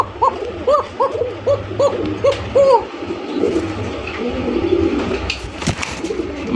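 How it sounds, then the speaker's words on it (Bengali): Red patti pigeons at a farm coo in a quick series of soft, rounded calls near by, then fade into general yard noise and shuffling. "প্রচুর এগুলো চাহিদা আছে লাল পাত্তি কবুতর।"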